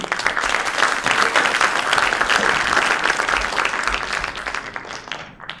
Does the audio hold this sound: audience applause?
yes